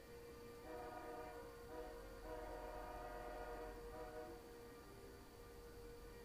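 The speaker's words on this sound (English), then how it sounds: "you probably hear the trains in the background at the train station" Trains at a station sound in the background, a faint tonal horn blowing in several drawn-out blasts over a low rumble of rail noise, distant and steady.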